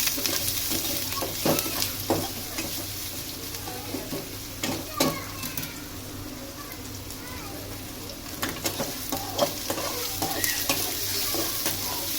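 Onion frying in hot oil for a quick leftover-rice breakfast, a constant close sizzle broken by repeated spoon scrapes and clanks against the pan, with a voice talking over it.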